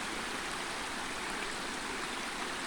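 A cold river flows steadily, a continuous broad rushing of water without pauses, close and fairly loud, no voices.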